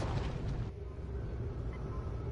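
A shuttle slams into the Doomsday Machine in Star Trek Online, setting off a loud, rumbling explosion that peaks at the start and then settles into a sustained low roar with no talking.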